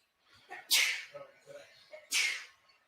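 A sneeze on a live basketball broadcast call of a Warriors versus Grizzlies play-in game, two sharp bursts close to the microphone, each followed by low murmuring and commentary.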